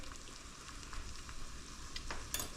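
Pork sizzles steadily in a hot frying pan, a constant crackling hiss with a few sharper pops and scrapes.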